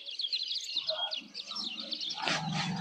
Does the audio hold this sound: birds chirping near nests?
yes